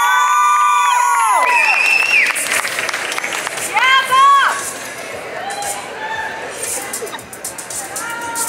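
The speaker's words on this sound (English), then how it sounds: "how about a big round of applause for competitor number 67, Atta Betagi" A crowd at a bodybuilding show's wellness open class cheers, shouts and claps, loud and lively, with an announcer speaking over the noise and whoops and cries rising and falling throughout.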